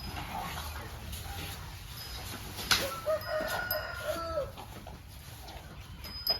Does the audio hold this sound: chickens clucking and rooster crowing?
yes